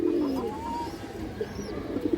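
Pigeons coo softly nearby, a low throaty murmur with brief rising calls over a faint background hum, and no one speaks.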